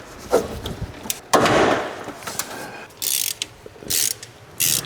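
A ratchet works on the top starter bolt of a car during a clutch job, giving bursts of rapid clicking with short pauses between strokes, fairly close and clear with no talking.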